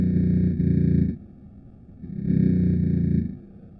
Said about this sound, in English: which the army claims is the sound of Hezbollah's terrorists tunneling into Israel from Lebanon.